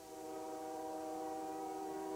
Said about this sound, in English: Just about every day you get stopped by a train.